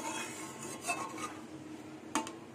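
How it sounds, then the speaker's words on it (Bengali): A metal spatula scrapes and stirs shing and pankal fish in a cooking pan with spices and water, a steady rasping scrape broken by two sharper metallic clinks. "খুন্তি দিয়ে মাছগুলোকে একটু নাড়িয়ে দেবো"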